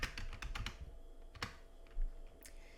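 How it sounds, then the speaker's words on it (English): Fingers type on a computer keyboard while a patient name is entered into a database table, a quick cluster of close, crisp key clicks, then a few scattered taps, all faint and alone. "you can click on the next row and we'll start typing in there patient name."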